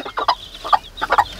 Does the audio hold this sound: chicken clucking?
yes